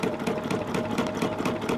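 A sewing machine doing free motion quilting runs steadily, its rapid needle stitching forming a fast, even mechanical chatter close to the microphone throughout.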